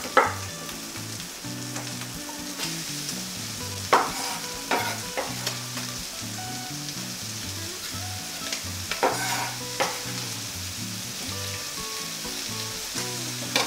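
Onion added to browned bacon with a rosemary sprig frying in a pan, a steady sizzle broken by repeated spatula scrapes and clacks, close by, with faint background music.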